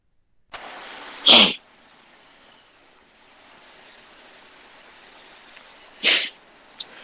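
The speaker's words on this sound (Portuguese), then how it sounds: "Eu vou espirrar aqui." Two sharp sneezes burst out several seconds apart, loud and close, separated by quiet background noise.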